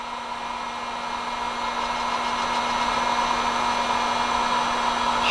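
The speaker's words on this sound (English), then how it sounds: "Get my heat gun, heat that up." A heat gun blows steadily at close range, shrinking heat-shrink tubing down over a crimp on a marlin lure's cable rig, a constant whooshing hum with a faint tonal whine and no speech.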